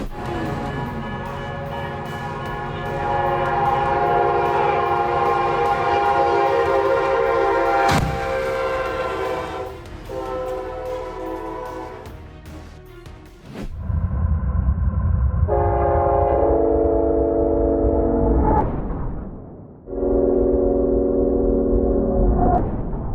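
A train passing through a level crossing with horn blasts, loud and close, with rumbling wheels and a sharp burst partway through, then sustained horn tones over a heavy low roar.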